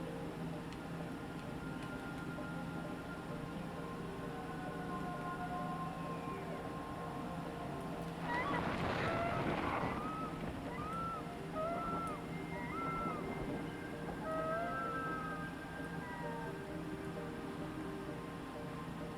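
Seagull cries sound in the Myst III: Exile video game, several short faint calls scattered over a steady ambient wash of sea and wind, with a louder burst of rushing noise midway.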